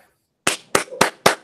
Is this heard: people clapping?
yes